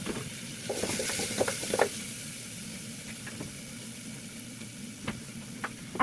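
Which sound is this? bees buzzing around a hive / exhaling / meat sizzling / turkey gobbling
meat sizzling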